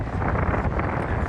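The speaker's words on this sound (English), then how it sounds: "playing with 30-mile-per-hour wind gusts" Strong wind gusts of around 30 miles per hour sweep across a golf course, heard as a loud, steady roar of buffeting wind noise on the microphone, with no voices.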